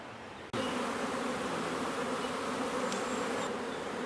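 Honeybees drone steadily at a beehive, a dense, close buzz that starts abruptly and holds at even loudness throughout.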